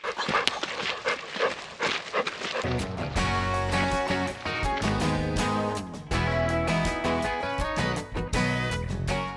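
A dog on a hiking trail near Boulder, Colorado pants steadily and quickly, with a short whimper mixed in, close by. Music plays over most of it.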